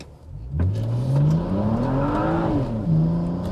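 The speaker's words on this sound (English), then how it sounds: "I do want to launch it from a dig." A BMW 335i with the N54 engine and an MFactory 1.5-way limited-slip differential launches hard from a standstill, its revving engine rising steadily in pitch for about two seconds before a brief dip, loud and close throughout.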